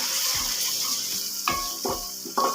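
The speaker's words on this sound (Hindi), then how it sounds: "इसको हमने अच्छी तरह भून लेना है।" Spices frying in a pan for dhaba-style moong dal tadka, a steady close sizzle with a few sharp stirring clatters and spoon knocks.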